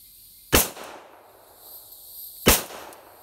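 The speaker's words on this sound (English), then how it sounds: "First shots with my Glock 41, 45 auto." Two sharp .45 ACP pistol shots from a Glock 41 at a gun range, about two seconds apart, each a loud crack followed by a short reverberant tail.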